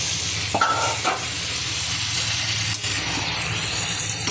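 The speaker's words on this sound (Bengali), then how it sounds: "ওল কষা করবো আমি এবারে।" Boiled elephant foot yam with green chilli fries and is stirred in a pan, a close, steady sizzle with occasional scraping strokes and no talking.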